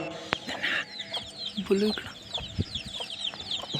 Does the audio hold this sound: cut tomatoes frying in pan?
no